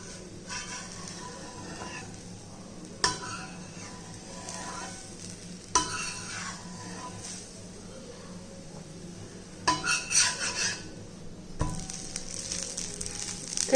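A dosa cooking on a pan with a soft, steady sizzle, punctuated by a few sharp clicks and scrapes as it is flipped; no voices, fairly quiet.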